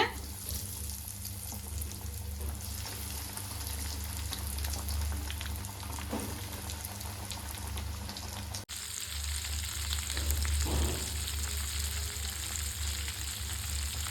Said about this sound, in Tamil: மற்ற கோலாவையும் எடுத்து ஃப்ரை பண்ணி எடுத்துக்கலாங்க